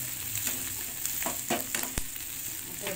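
Onions and curry leaves sauté in a pan for aval upma, giving a steady, close sizzle with scattered stirring clinks and scrapes and no talk.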